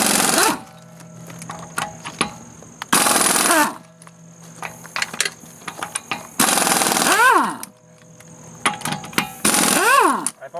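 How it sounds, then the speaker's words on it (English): An air impact wrench zips lug nuts off a 2001 Buick LeSabre, with several loud, separate bursts of rattling hammering and brief winding-down whines between them, close by. "Let's take these lug nuts off here."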